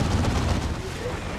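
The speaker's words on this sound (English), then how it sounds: "An orbital bombardment chucked in by one of the Brother Captains." Heavy orbital bombardment strikes rumble through a Dawn of War 2 battle, a dense, continuous wash of booming impacts and crackling fire with no clear gaps, loud throughout.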